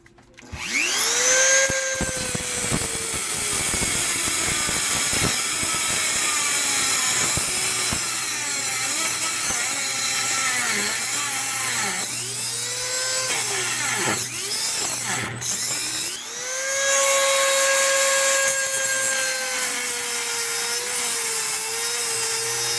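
A Dremel rotary tool whines steadily and close while cutting off a part of a log splitter wedge, its pitch dropping and rising as the bit bites, with a brief dip near the middle before it resumes.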